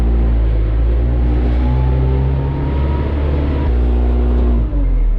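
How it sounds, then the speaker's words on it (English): A tractor drives with its PTO-driven grass seed spreader engaged, giving a loud, steady engine rumble with a constant mechanical whir that runs unbroken and close throughout. "Engage my PTO here. Pull this to 5 or 6. There we go. And I'm gonna start driving."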